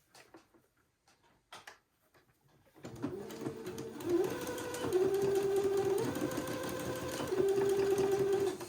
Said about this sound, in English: using the sewing machine again, tack that elastic in place.